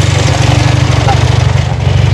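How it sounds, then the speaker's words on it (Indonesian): Toyota Vios engine fitted with a racing exhaust idles close by, a steady low rumble with a rapid even pulse throughout, no pauses. "Dan ini dia untuk di bagian suara mesinnya."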